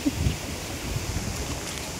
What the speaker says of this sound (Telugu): ఉయ్యని వస్తుంది గాలి మోత